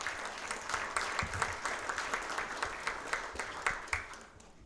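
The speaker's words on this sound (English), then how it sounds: "give him a little round of applause" An audience at a fire and emergency services badging ceremony gives a short, moderately distant round of applause. The dense clapping holds steady for several seconds, then trails off to quiet.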